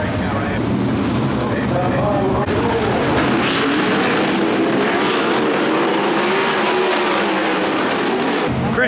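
Sprint cars roll out for the last heat race at the Australian Sprint Car Championship, a loud, continuous roar of several engines that rises and falls, with a commentator talking over it.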